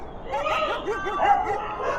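Dogs barking and yipping in rapid, repeated bursts with whining tones, close and fairly loud, outdoors on a windy night.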